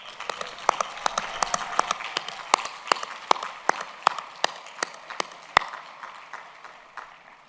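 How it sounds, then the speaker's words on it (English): A small, sparse crowd at a graduation ceremony applauds its staff and volunteers, with scattered individual claps ringing out in an echoing space, thinning away over several seconds with no voices. "Please join me in giving them a huge round of applause"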